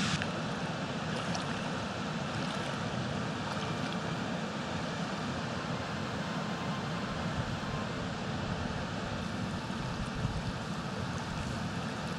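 A mountain waterfall spills into the Ayous lakes below the Pic du Midi d'Ossau, producing a continuous broadband roar of rushing water, close and steady throughout, with no talking.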